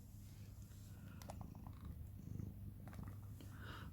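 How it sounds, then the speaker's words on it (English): A hungry domestic cat purrs softly and steadily nearby, a quiet continuous rumble with a few faint clicks and movements, and no talking. "There goes the cat."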